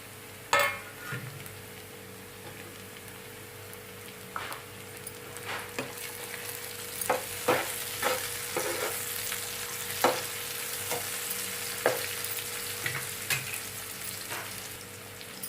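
Tomatoes hit a pan of golden-brown frying onions, starting a soft continuous sizzle. A spoon scrapes and stirs through it, giving repeated clinks and scrapes at uneven intervals, close and moderately quiet with no talk.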